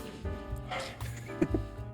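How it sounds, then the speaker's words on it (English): Dogs barking just outside a door, a few sharp barks heard faintly at a distance beneath a steady low indoor hum. "Why are they barking right outside my door?"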